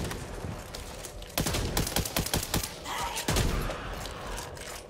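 Gunfire in the zombie shooter Back 4 Blood: a fast burst of repeated shots hits around the middle, followed by a second cluster of loud cracks against a busy, steady in-game background. No one speaks over the firing.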